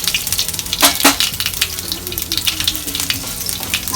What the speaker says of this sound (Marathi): आपले तेल गरम झाले, त्यामध्ये मोहरी टाकूया, जिरे, कढीपत्ता